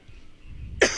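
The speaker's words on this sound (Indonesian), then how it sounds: "Sampai batuk-batuk ya." A single sharp cough bursts out at the end after near silence.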